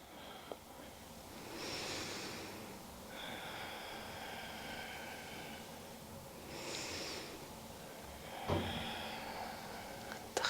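Slow nasal breathing with the mouth closed during gentle yoga in bed, soft hissing inhales and exhales repeating every few seconds, close and quiet over low background hum.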